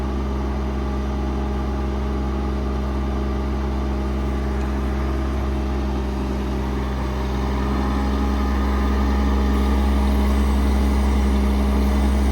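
An IMT 7500-22 crane mounted on a 2015 Ford F550 truck runs at full speed, giving a steady, loud engine and hydraulic drone with a low hum that swells slightly toward the end.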